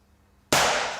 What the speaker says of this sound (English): If Colin can successfully detonate Charles's blue bomb with his mind